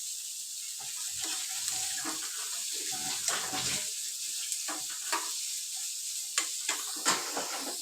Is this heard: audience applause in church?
no